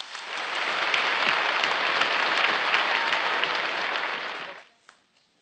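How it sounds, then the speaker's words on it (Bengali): Audience applause at a Gangchil Group dealer and customer gathering, a steady dense burst of many hands clapping that holds for about four and a half seconds before quickly dying away. "আমরা করতালির মাধ্যমে তাকে অভিনন্দন জানাই।"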